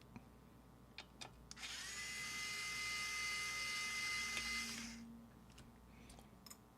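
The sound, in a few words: power drill driving magnetized screws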